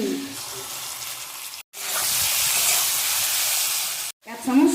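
Tomatoes hit a hot frying pan for a Bengali egg chilli, a loud broadband sizzle that runs steadily with two brief breaks and no speech over it.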